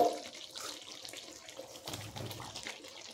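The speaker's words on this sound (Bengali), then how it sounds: "আর এখানে দিয়ে দেব সামান্য পরিমাণ গরম জল।" Hot water poured into a pot of mutton curry with fried potatoes, a steady close gush and splash that shifts tone as the pour goes on, with no voices.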